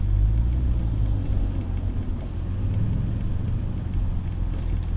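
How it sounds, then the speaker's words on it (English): Cars in slow road traffic make a steady low rumble of engines and tires, close and continuous, with no distinct individual pass-bys and no voices. "I've been passed by 400 cars."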